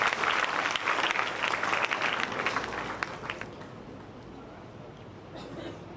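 An audience at a school welcome and thanksgiving ceremony gives loud, sustained applause for a new principal, dense clapping that thins out toward the end.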